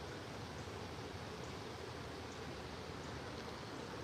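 A small creek on a golf course flows in a steady, soft, even rush of water, faint and continuous with no talk over it.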